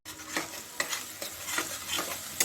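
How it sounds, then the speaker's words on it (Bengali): Spice paste of tomato, onion, fried biuli dal, green chilli and ginger is stirred and fried in a pan for a spiny gourd curry, with close scraping strokes over a steady sizzle. "মশলাটাকে আমি এটাকে কষিয়ে নিচ্ছি"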